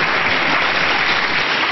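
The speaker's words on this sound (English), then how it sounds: "That's the first round of applause for contributing." Meeting audience applauding, a dense, even burst of many hands clapping that fills the brief moment without any voices.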